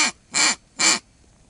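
Three short blasts on a duck call with a metallic tone, each a bright, raspy honk of under a quarter second, evenly spaced and close, with quiet gaps between.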